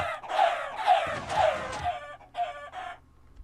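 Chickens in a Minecraft modpack cluck in short, close, repeated bursts, several squawky calls in a row with brief pauses between them, and no speech over them.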